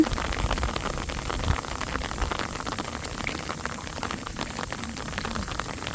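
Steady, dense hiss of rain falling on rice paddies during planting, with a constant wash of patter and no voices, spread evenly throughout.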